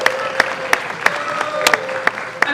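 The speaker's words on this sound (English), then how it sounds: "if you guys ever clap for me like that again" An audience claps in unison, sharp evenly spaced claps about three per second over a low crowd murmur.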